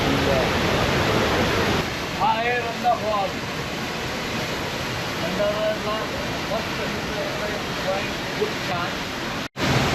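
Randha waterfall near Bhandardara in Nashik district, a steady broadband roar of falling water filling the whole clip, with people talking over it.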